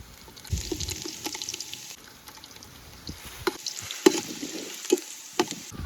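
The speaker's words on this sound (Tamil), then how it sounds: "போடுங்க வெங்காயம் போடுங்க சிறு வெங்காயம் பட்டை லவங்கம் ஏலக்காய் போடுறப்பா" Small onions, cinnamon, cloves and cardamom drop into hot oil in a pan for village-style crab gravy. A soft steady sizzle runs throughout, broken by a few sharp stirring knocks.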